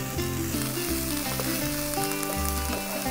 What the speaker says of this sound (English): Saute the cabbage now.